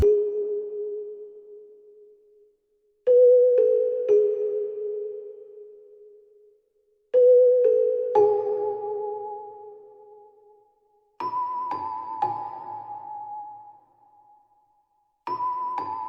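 A soft, bell-like synth plays a slow, simple melody of a few sparse notes, each ringing out and fading, with gaps of silence between phrases.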